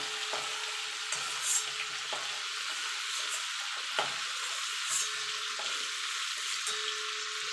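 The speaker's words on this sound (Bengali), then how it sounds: "চিংড়ি মাছটা ভাজা হয়ে গেছে এবার আমি তুলে নেবো" Shrimp frying in oil before being lifted out for a cabbage dish: a close, continuous crackling sizzle with a few soft utensil taps and bursts, steady in level throughout.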